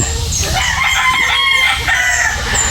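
A rooster crows loudly up close while chickens cluck around it, a busy farmyard chorus.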